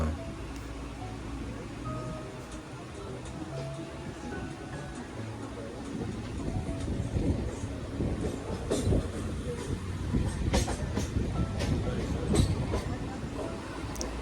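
Passenger MEMU train from Vasai to Panvel rumbling along the tracks, heard from inside, with steady rolling noise and rhythmic clicks growing louder, and a voice speaking faintly underneath.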